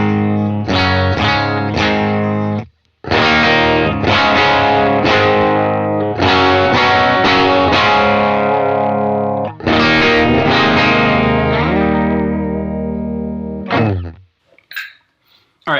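Clean electric guitar tone through a Universal Audio Dream 65 amp pedal on a pedalboard: full, ringing chords played in three loud phrases separated by short pauses, ending with a few scattered plucks, with no voice.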